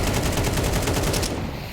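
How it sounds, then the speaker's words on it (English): Rapid automatic gunfire from a Counter-Strike match between G2 and TheMongolz at IEM Dallas 2025, a full magazine emptied through smoke in one dense, loud, continuous burst that tails off near the end. "Unloading a mag through the smoke"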